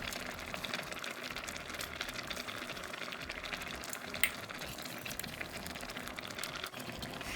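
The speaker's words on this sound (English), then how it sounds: "This onion and pepper mixture needs to cook down for a while" An onion and habanero pepper mixture cooks down in a pot for okra stew, giving a soft continuous sizzle and bubbling throughout, fairly quiet and with no voices.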